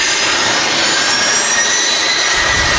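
Embraer Phenom 300 business jet at Manchester Airport, a loud, steady, close engine roar with a high whining tone running throughout.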